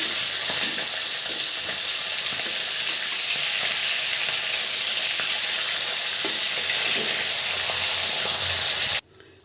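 Hilsa fish fry in hot oil with a loud, continuous crackling sizzle close by, steady throughout, before it cuts off abruptly at the end.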